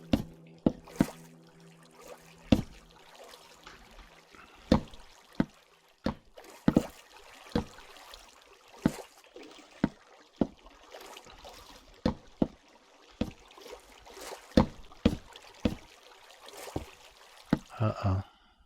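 Flowing waterfall water in Minecraft, a steady soft trickling wash close by, overlaid with sharp regular clicks and taps throughout, no talking.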